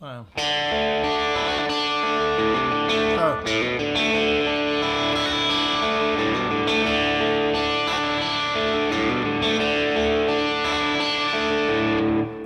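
Distorted electric guitar dialed to a signature style tone on a Fractal AM4 modeler, with sustained chords and riffs played loud and steady for the whole stretch.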